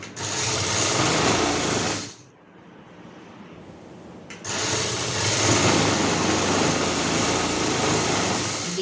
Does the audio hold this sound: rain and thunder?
no